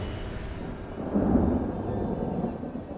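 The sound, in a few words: distant thunder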